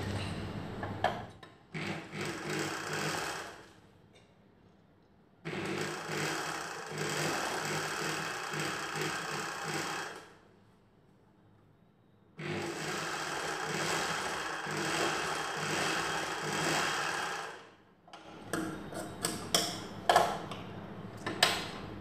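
Sewing machine stitching a katori blouse runs in three long, steady bursts of rapid rattling with short quiet pauses between them, ending in a few brief start-stop clicks.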